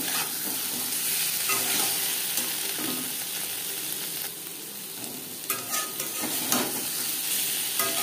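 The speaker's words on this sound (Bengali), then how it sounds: "পনির হালকা করে ভাজা হয়ে গেছে" Paneer pieces fry lightly in a pan, giving a continuous close sizzle and hiss with a few stirring knocks near the end, and no talking.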